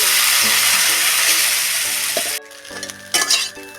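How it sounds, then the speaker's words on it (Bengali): Veg chow mein fries in a pan with hing, a loud steady sizzle that suddenly drops away, followed by a few clinks and scrapes of stirring. "আমার চাউমিনটা ভাজা হয়ে গেছে"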